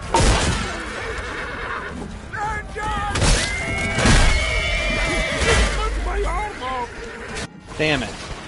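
A horse neighs and whinnies several times in a video game, with thuds and clatter from the game mixed in, close and fairly loud with talk over it.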